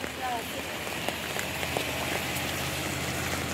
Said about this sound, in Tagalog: papalakas po yung ulan